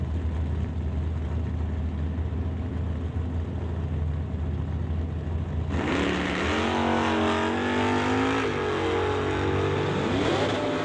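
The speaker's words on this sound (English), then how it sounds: "That lines up Sylvia Hookstons in the 1966 Ford Mustang, racing Tim Corner in the Freak Child machine." A 1966 Ford Mustang and a pickup launch in a drag race, steady engine drone jumping into a loud, rising roar of hard acceleration about halfway through, with revving sweeps continuing to the end.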